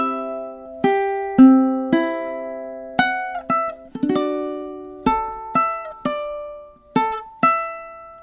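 Measures 10 and 11 of a song on ukulele: a run of crisp plucked notes and chords in a steady, moderate rhythm, each ringing briefly, close and unaccompanied.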